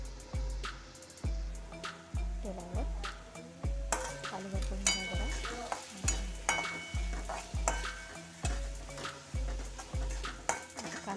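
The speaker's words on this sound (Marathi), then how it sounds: "बारीक चिरून कांदा टाका परतून घ्या" Chopped onion and a green chilli sautéing in a pan for egg bhurji, a rhythmic series of spatula scrapes and taps against the pan roughly twice a second over a soft sizzle, close and clear.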